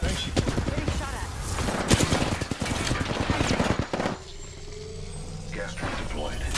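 Gunfire in an Apex Legends match: dense bursts of shots and impacts packed into the first four seconds, then a quieter stretch with sparse noises and a game voice line over the top.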